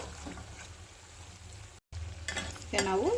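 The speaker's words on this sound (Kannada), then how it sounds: "ಆ ಥರ ಫ್ರೈ ಮಾಡಿ ತಗೋಬೇಕಾಗತ್ತೆ ನೋಡಿ ಎರಡು ಕಡೆಯೂ ಚೆನ್ನಾಗಿ ಗೋಲ್ಡನ್ ಬ್ರೌನ್ ಆಗಿದೆ" Khata namkeen snack frying in hot oil until golden brown and crisp: a steady, soft sizzle running throughout, with a brief cut midway and some clinks and stirring toward the end.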